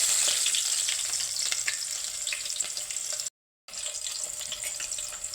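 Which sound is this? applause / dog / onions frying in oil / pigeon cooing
onions frying in oil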